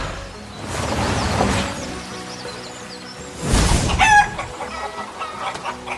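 Chickens cluck in a farmyard beside a barn where a tractor has arrived, with two loud bursts of clucking and squawking, a rooster-like call among them, close by and standing alone without talk.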